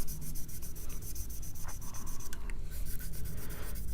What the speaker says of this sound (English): the blue side of this is a very, very fine grit, more of polishing than sanding.